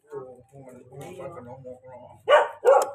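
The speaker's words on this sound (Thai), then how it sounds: "เห็นคนมันก็เห่าเนี่ย เห่าคนแปลกหน้า" A dog at a rural Thai home barks at a stranger, two sharp loud barks near the end following a stretch of people talking.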